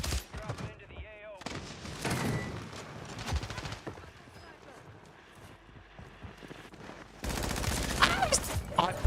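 Call of Duty gunfire rattles in bursts and volleys under loud, excited talk, with a heavier stretch of shooting near the end.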